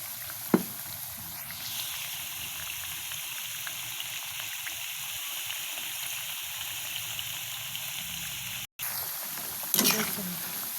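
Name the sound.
banana chips frying and being stirred in oil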